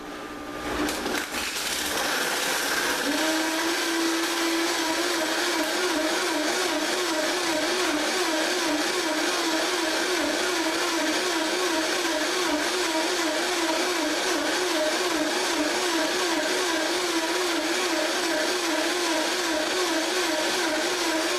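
Vitamix, Blendtec and OmniBlend blenders running: a motor spins up and then holds a loud, steady whirring drone with a fluttering, churning texture for about twenty seconds, with no talking.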